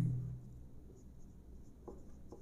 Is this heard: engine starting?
no